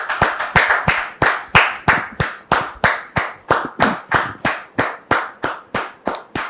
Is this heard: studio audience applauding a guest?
yes